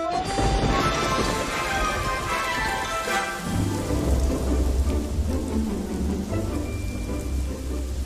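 Steady heavy rain pours down while a deep rumble of thunder rolls in partway through, loud and close, with no voices.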